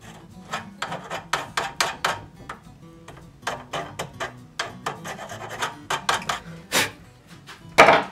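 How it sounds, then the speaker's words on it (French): A rat-tail file rasping on a metal pocket-bike handlebar, with close, uneven back-and-forth strokes in quick irregular bursts and a sharper knock near the end, no talk. "je prends une queue de rat et je vais essayer de limer donc ce que je peux limer"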